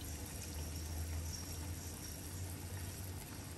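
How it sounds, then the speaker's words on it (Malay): Tamarind water poured into a pot of simmering jenahak fish head curry gives a steady, even rush of liquid with a soft low rumble beneath, close and continuous, with no voices. "kita masukkan air asam jawa sedikit"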